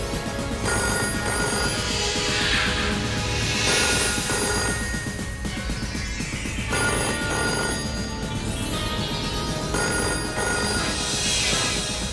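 A telephone bell rings repeatedly in bursts, loud and close, with no one talking over it.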